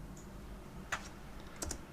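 A few quick keystrokes on a computer keyboard while entering a German search query, two short bursts of clicks close by over a quiet room background.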